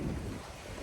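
Gusty outdoor wind buffets the microphone during a walk, a close, steady low roar with broadband rush that holds loud for under a second, with no voices.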